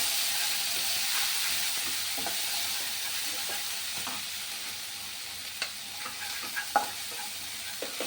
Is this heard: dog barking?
no